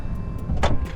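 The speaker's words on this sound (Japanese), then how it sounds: "パワースライドドアなのでこのように、電動で閉まってくれると" Electric power sliding door on a Honda N-BOX Custom Turbo kei car sliding shut, a short motorized whir that rises and ends in a brief latching swell, heard close up and alone.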